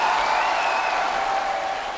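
A studio audience at the televised music show Immortal Songs gives a singer a dense, steady round of applause, a continuous wash of many clapping hands.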